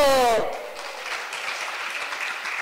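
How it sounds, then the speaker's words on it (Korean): A church congregation at a Sunday dawn worship service claps together as a dense, even wash of applause, following a brief sung or spoken tone at the start, sustained at fairly close range. "박수."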